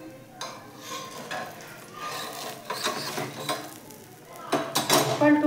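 An uttapam being flipped on a hot pan, with low sizzling, scraping of a spatula and clinks of utensils, growing louder with sharper metal contact near the end.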